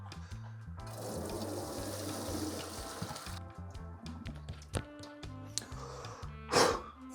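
Water from freshly cooked pasta is poured off into a sink, a gushing rush of liquid for a few seconds, then quieter trickles and clinks of cookware, with a faint tonal hum beneath.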